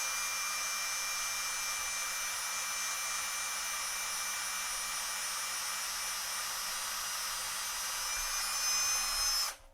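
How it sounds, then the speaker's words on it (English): A power drill bores steadily into the solid plastic of an Oregon Laminations corner cutter punch, a sustained close high-pitched whine lasting several seconds before cutting off abruptly. "My drill bit, just kind of line it up so I can't go too deep"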